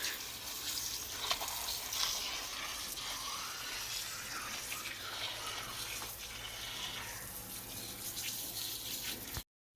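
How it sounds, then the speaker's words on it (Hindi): Running water splashes and swishes steadily as mustard greens are rinsed under a tap, continuous and close, ending abruptly. "साग को अच्छे से धो लेंगे हम यहाँ पे"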